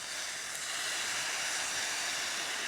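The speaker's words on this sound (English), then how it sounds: "We should do like just about a minute while these are frying up." A steady, loud hiss and sizzle from noodles frying in a hot pan on camp gear outdoors, continuous and unbroken throughout.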